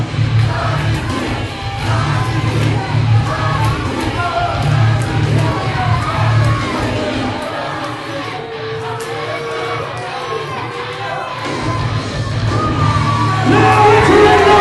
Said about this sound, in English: Listen to this crowd, they are ready.